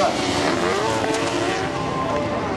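Kart cross race cars drive hard during qualifying at Saint-Jean-Brévelay, a dense, continuous engine roar with loud revving and no breaks.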